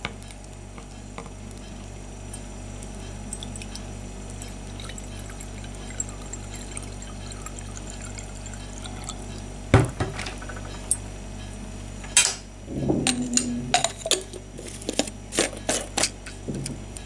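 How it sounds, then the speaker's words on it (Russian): Water is poured into a small vintage glass flask with the colour of old apothecary bottles, a faint continuous trickle followed by a few louder glassy clinks and splashes near the end. "А сейчас я залью воду, и мы попробуем, как же эта штука работает."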